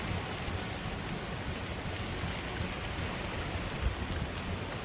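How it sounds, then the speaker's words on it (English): Rain falls steadily as Hurricane Milton approaches in the evening, a dense, continuous hiss of drops with wind mixed in, even and moderately quiet throughout with no voices. "we're starting to get a little bit more rain and a little bit more wind."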